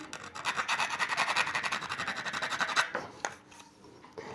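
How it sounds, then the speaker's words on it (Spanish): Rhythmic rasping strokes of a small file removing drill burrs from copper, steady and close for about three seconds, then slowing to a few scattered scrapes. "con una pequeña lima pues vamos a ir quitando las rebabas"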